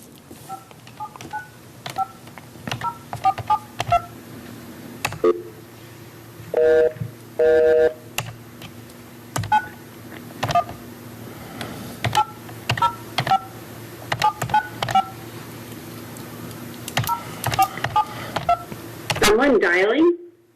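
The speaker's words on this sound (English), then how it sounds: "Someone dialing?" Telephone keypad dialing tones during a public meeting call-in, a series of short beeps in irregular clusters with a few longer tones, clear and prominent, ending in a brief ring.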